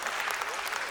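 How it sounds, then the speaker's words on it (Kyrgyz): A brief, dense burst of audience applause, many hands clapping at once in a continuous close crackle. "Кол чаап коюңуздар, Замир мырза"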